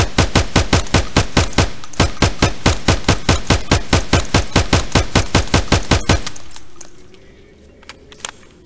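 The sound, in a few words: tap-firing a gun in the Escape from Tarkov video game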